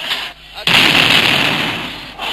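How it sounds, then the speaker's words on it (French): An offensive grenade goes off during a riot, a sudden loud blast followed by a sustained roaring wash of noise that fades over two seconds, with earlier muffled crowd noise before it. "un manifestant a lancé une grenade offensive, qui est aisément reconnaissable par sa couleur jaune. En voici une autre."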